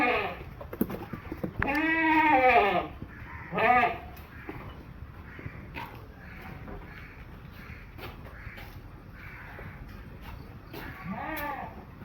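A Hyderabadi cross female goat kid bleats loudly and close up, giving three drawn-out, wavering cries spread across about twelve seconds, with quieter farmyard background between them.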